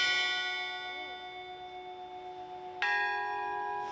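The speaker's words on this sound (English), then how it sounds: "3 new bells arrived to the cathedral, one of them ceremonially rung by athletes during this summer's Olympic Games in Paris." One of the new bells at Notre Dame cathedral in Paris rings alone: a single bright strike rings out and slowly fades, then a second loud strike sounds near the end, with a long shimmering hum after each.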